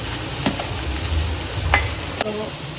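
Grated carrots, cabbage and capsicum stir-frying in a pan for a vegetable pulao, a low continuous sizzle broken by a few sharp utensil scrapes and taps.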